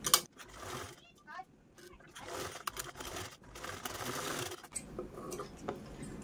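Sewing machine stitching a tassel on a homemade saree belt, with short bursts of fast mechanical whirring between quieter pauses, fairly close, with someone speaking over parts of it.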